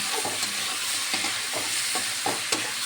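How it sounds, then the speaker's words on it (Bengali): Fish pieces frying in a spiced turmeric and chili masala, stirred with a spatula in repeated scraping strokes over a steady close sizzle. "এবারে এই ধুয়ে রাখা মাছগুলো দিয়ে দেবো। মাছগুলো দিয়ে ভালো করে কষে নেব।"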